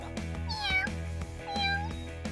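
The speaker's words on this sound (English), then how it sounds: "Do I hear meowing?" A cat meows twice close by, two drawn-out rising-and-falling cries about a second apart over a low steady background hum.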